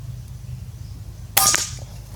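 An Aarya MK3 .177 air rifle fires a single Barracuda pellet at a target, one sharp, brief crack close by against a quiet background.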